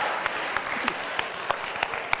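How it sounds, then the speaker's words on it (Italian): Applause from an audience at a charity benefit auction, a steady dense patter of clapping with sharper individual claps standing out at regular moments, continuing alone without talk. "Jessica Stewart che vogliamo salutare con un bel applauso."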